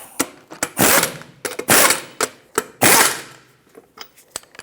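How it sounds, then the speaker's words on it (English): A ratchet snugs the lug nuts on a Hyundai Accent wheel in short, loud bursts of rapid clicking, with pauses between bursts and lighter taps in between. "Snug these up in a cross pattern to seat the wheel evenly."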